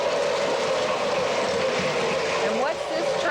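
A Union Pacific 49er model train runs on its track at a level crossing, a steady close mechanical whir and rumble with a rising whine near the end, with people talking over it.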